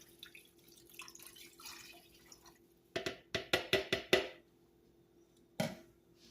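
Chicken stock poured into a crock pot for a slow cooker pork picnic roast gives a quick run of five close, splashy glugs, then a single splash after a short pause, with no talking.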